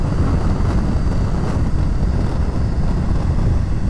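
A Honda VFR750R RC30 motorcycle with a close-ratio gearbox and about 100 horsepower is ridden at speed, its steady engine drone blending with loud, constant wind roar for the whole stretch.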